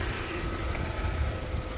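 A lifted Suzuki Jimny's engine idles steadily after about ten minutes of running, a low, even rumble with constant hum close to the microphone and no talk.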